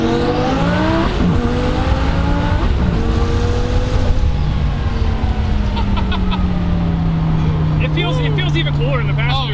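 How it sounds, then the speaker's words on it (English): Twin-turbo V10 engine in a go-kart with Precision 76 turbos accelerates hard, its loud rising whine climbing in pitch through several quick shifts and turbo spool, close and aggressive, with occasional chatter from riders underneath. "Another thing is the Precision 76s, they spool up very fast."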